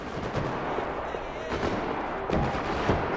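Gunfire rattles through a parking lot in the video game Max Payne 3, with repeated sharp shots and bursts at moderate distance over a noisy, busy background.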